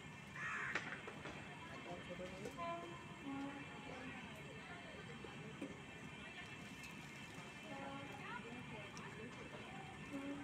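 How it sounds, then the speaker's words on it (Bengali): A mail train with new AC coaches rolls past slowly in a steady, continuous rumble and clatter, with crows cawing nearby and faint voices in the background. "মেল যাচ্ছে।"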